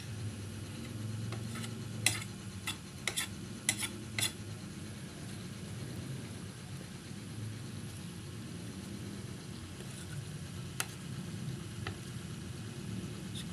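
Chili peppers added to adobo simmering in coconut milk, a faint steady sizzle and bubbling under several sharp clinks of a utensil against the pan, quiet and close.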